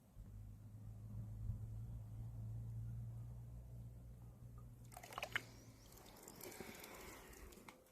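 Water filling from a thin trickling mountain spring on a trek, heard as a faint, close trickle and splash that grows brighter in the later seconds over a low background hum.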